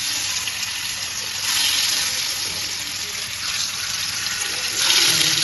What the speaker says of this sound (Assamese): এতিয়া ফ্ৰাই কৰোঁ এইখিনি